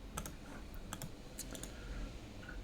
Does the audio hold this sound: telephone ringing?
no